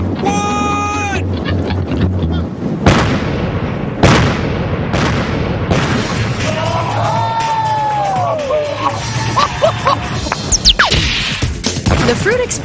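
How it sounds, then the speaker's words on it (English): Primer cord detonates and blows apart a piece of fruit with a sonic boom, heard as several sharp explosive cracks spread through the clip over a steady, noisy outdoor background with tonal squeals and whines. "The fruit explodes because of the force of the sonic boom shockwave, which radiates out and away from the primer cord in every direction"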